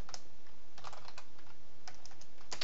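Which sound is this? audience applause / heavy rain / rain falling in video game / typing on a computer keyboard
typing on a computer keyboard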